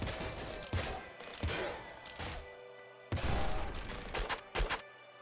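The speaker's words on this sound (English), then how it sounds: "This is the smart mortar." The smart mortar weapon in the roguelike Nuclear Throne fires in a rapid series of booming blasts and thuds, several explosions landing close together over a continuous noisy game soundscape.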